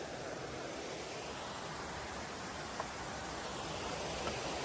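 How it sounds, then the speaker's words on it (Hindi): A crystal clear mountain stream runs under a footbridge on the rainy Rudranath Temple trek, a faint, even, continuous rush of flowing water with no voices. "पानी की आवाज़ सुनो कितनी बढ़िया आ रही है"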